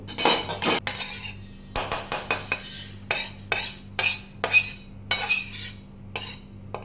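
Roasted poppy seeds are scooped out of a metal kadhai, with a series of close, sharp metallic scrapes and clinks in an irregular rhythm separated by short pauses, and a low hum underneath.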